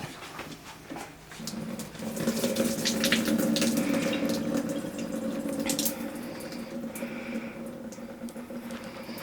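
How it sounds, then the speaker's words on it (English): Water pours from a perforated pasta draining pan, used for broccoli, into a kitchen sink, a steady rushing splash that swells after a couple of seconds and then eases slightly as it continues, close and alone. "So I'm gonna drain this real quick in the sink."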